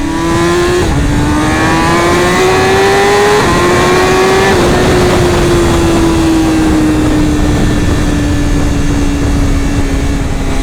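A 2026 BMW M1000RR motorcycle accelerating hard at close range, its engine whine rising in pitch then dropping sharply at quick gear shifts, a loud continuous roar with wind rush and no talking.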